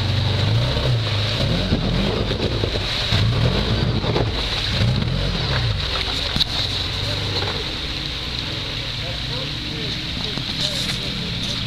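A Can-Am Commander off-road vehicle's engine drones loudly and steadily while climbing a big rock, with wind buffeting the microphone and people talking over it.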